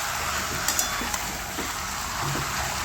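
Meat being stir-fried with onions in a pan, a steady close sizzle and hiss with a few light stirring clicks throughout, no voices.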